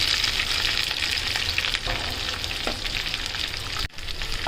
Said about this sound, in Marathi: आपण लसूण टाकूया, तर ही भाजी कापून घेतली टाकूया